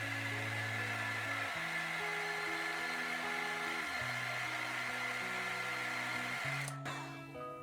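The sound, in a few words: heat gun blowing hot air onto rod handle shrink tube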